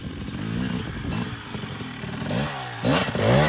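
An enduro motorcycle engine revs and surges as the rider pops the clutch to climb over a log, rough and close, with clattering and a sharper burst of revving near the end.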